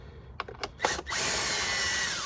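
A power drill driving bolts on a Ford Focus gives a few short trigger blips, then whirs steadily at high speed, close and loud, with no talking.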